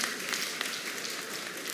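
A large audience applauds an incoming district governor and his wife at a Rotary-style district ceremony, steady dense clapping filling the whole stretch at moderate, even loudness with no voices over it.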